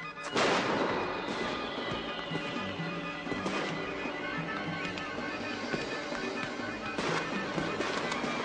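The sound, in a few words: fireworks exploding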